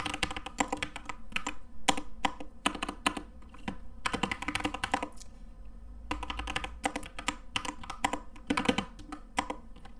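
Steady typing of code on a computer keyboard, with bursts of quick clicking keystrokes separated by short pauses, close and clear with no talk.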